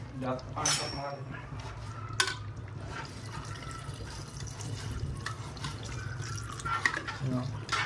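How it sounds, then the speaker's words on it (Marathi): Hot water poured into a pot of chicken biryani masala, a steady close-up gurgling pour with a low hum underneath that runs for several seconds. "आता हे गरम पाणी आपण ॲड करायचं याच्यामध्ये."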